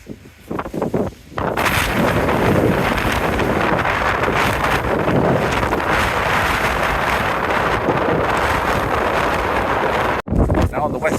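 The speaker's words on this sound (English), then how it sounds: "you'll realise just how windy it is." Strong wind roars and buffets the microphone continuously for many seconds, with brief speech before the gusts hit, outside a van on the Isle of Lewis, Scotland.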